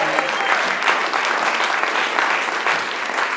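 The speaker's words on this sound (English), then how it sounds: "let's give the Lord one more big hand clap" A church congregation claps hands together in a sustained, dense round of applause that holds steady and fairly loud from start to finish, with no voices standing out.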